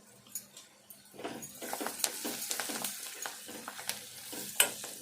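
Spices and fenugreek leaves stir-fry in a pan, a close sizzle broken by a quick run of scraping stirs that grow busier midway, with no talk.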